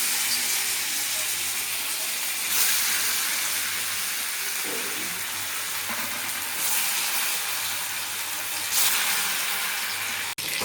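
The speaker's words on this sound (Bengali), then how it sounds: "এবার আমি এগুলো আস্তে আস্তে তেলের মধ্যে দিয়ে দিচ্ছি" Pieces of dhoka, lentil cakes made without chana dal, are slid into hot oil in a pan. A steady, loud frying hiss fills the clip, swelling slightly at moments, with one sharp click near the end.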